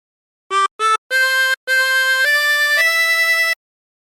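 A chromatic harmonica plays a short hymn phrase from Be Thou My Vision: two quick short notes, then longer sustained tones stepping to a held final note, clear and close with no voices.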